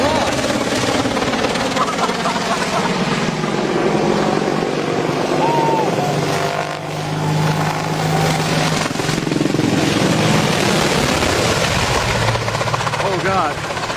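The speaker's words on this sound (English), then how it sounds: "A dramatic helicopter crash was captured on camera in Afghanistan." Helicopter crash in Afghanistan: a continuous loud rotor and engine roar fills the whole stretch with broadband noise, while excited voices shout over it.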